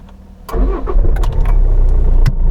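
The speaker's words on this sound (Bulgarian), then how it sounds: "Колата пали много меко." A 2013 Kia Ceed 1.6 CRDI diesel cranks briefly and starts, then settles into a steady, loud, close idle, with no voices over it.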